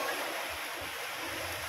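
Water poured into a hole dug in beach sand, a continuous rushing wash of water with a soft low rumble underneath, fairly close.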